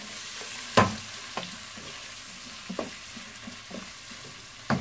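Dried fish fries in a pan, a soft continuous sizzle punctuated by several distinct spatula scrapes and taps at irregular intervals, close by.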